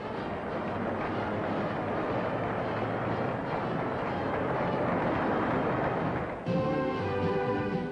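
Steady loud roar of an airplane carrying a professional basketball team in the mid-1960s, a continuous broadband drone that changes character near the end.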